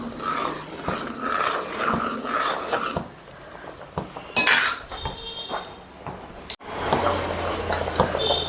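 A spoon clinks and scrapes around a pot as Andhra-style drumstick root sambar is stirred after tamarind pulp is added, giving irregular metallic taps and rasping stirs, fairly close.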